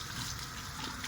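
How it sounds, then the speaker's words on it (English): Warm tap water runs steadily into a sink in a loud, continuous gush with no pause. "now that the water's running warm, I'm just gonna plug my sink"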